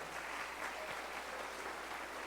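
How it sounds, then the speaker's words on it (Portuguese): A church congregation claps steadily together during a worship service, a dense, sustained wash of applause heard from a distance and fairly soft. "Dá um aplauso ao Senhor por isso."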